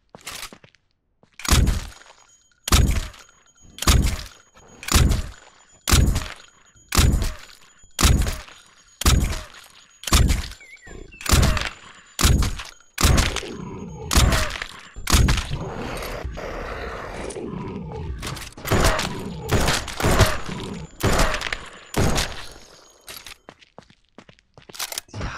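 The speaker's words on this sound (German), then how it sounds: "Das waren jetzt wieder 14 Schuss." Gunshots in the zombie survival game No One Survived, about fourteen heavy reports fired one at a time at a steady, even pace, followed by a messier stretch of overlapping impacts and more shots.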